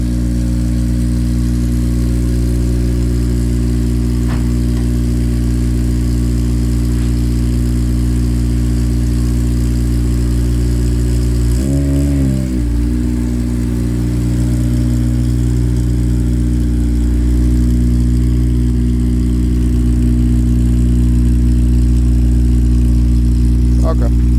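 A car fitted with a Yonaka catback exhaust runs at a cold start-up, holding a loud, steady low exhaust drone with a brief blip partway through and no voices over it.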